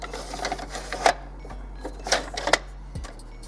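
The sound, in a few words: Canon Pixma MG2950 printer reading a new ink cartridge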